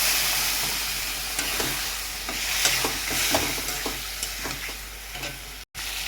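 A cumin, coriander, salt and turmeric spice paste sautéing in a pan with a little water, giving a continuous close sizzle with intermittent scraping strokes as it is stirred, no talking.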